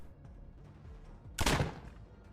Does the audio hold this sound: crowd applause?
no